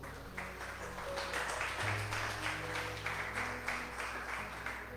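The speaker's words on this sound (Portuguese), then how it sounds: "desocupe a sua mão e aplaude o Senhor." Congregation clapping hands during a church service, a steady broadband patter of many hands filling the room at moderate level, with low organ or keyboard tones sustained underneath.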